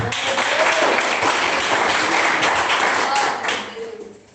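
A church congregation claps and applauds during a sermon, a dense, loud wash of hands that tapers off near the end, with voices faintly mixed in.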